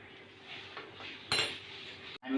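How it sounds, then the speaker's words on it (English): A fork pricks folded pizza dough, giving soft taps and one sharp metallic clink, fairly quiet and close. "Then take a fork and then just punch it over here."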